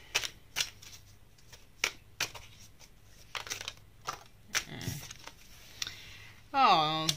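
Tarot cards being shuffled by hand: a steady series of soft, close riffling slaps and flicks at irregular intervals, with quiet speech and a brief tonal burst near the end.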